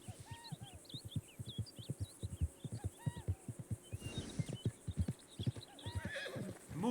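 In Red Dead Redemption 2, a horse whinnies in several high, wavering calls over a steady clip-clop of hooves, all quiet and somewhat distant with no talk.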